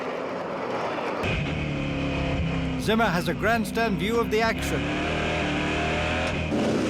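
Euro-Racecar NASCAR stock cars roar through a double-file restart at Nogaro, with a steady engine drone and a burst of passing cars revving mid-clip under continuous commentary.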